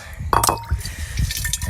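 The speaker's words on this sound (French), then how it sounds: "c'est trop long de remplir les bouteilles d'eau" Water filling bottles at a tap at Montesenario monastery: a splashing, gurgling pour with a brief clink of glass near the start, close and steady throughout the short stretch.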